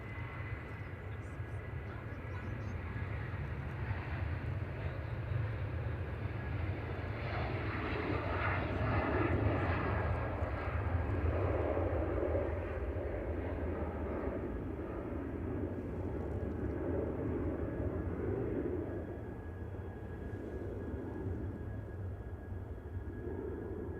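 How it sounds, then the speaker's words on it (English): A Boeing 737-800 jet departs Manchester Airport, its engines giving a broad, steady roar that swells and then holds at moderate distance for the whole stretch, with a voice talking faintly over it. "Flight 1032, back to Amsterdam, PHBXL 737-800 departing."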